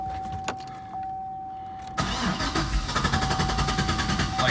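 A Suburban's engine cranks and then fires up after intake reassembly, with throttle body cleaner still inside, catching at about the two-second mark and settling into a loud, steady, rough idle close by.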